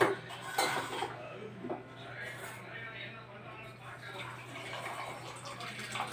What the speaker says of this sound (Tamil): கொஞ்சம் ஒரு அரை டம்ளர் தண்ணி ஊற்றி கலக்கி